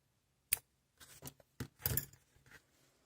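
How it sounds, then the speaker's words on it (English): Scissors snip a length of white yarn close by, a sharp opening click followed by a quick cluster of crisp cutting snips, with quiet pauses between them. "When we cut a length of white yarn"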